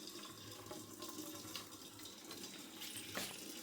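Water is poured off in a home kitchen and splashes everywhere, a quiet, uneven gush with spattering bursts over a few seconds.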